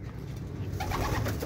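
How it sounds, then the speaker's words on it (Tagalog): Summer-banded racing pigeons in a breeder's loft give soft, low cooing. The throaty murmurs roll in under steady background hiss. "So yan ang ating mga summer banded na ibon."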